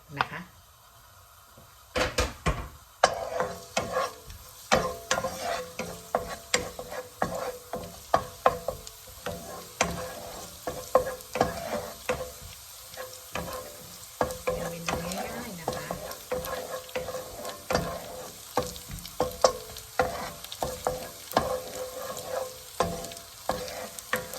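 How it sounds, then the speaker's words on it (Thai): Cauliflower stir-fried in a pan with a little pork, a spatula clattering and scraping in quick irregular strokes over a steady sizzle, close and fairly loud throughout. "วันนี้ก็จะผัดดอกกระหล่ำนะคะกระหล่ำดอกผักกาดดอก"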